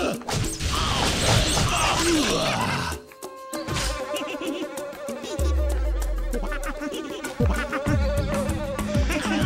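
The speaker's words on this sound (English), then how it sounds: "Always kill the fucking bees, because they do damage." A swarm of bees in the first-person shooter Timesplitters 2 buzzes loudly and close, a dense whining drone mixed with game crashes, thuds and clanking effects, broken by a brief dip partway through.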